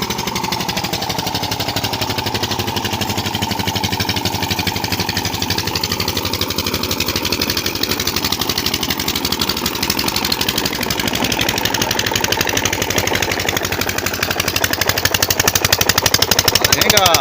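Village tubewell pump running outdoors with a harsh, rapid mechanical chugging that stays loud and constant throughout, with no talk.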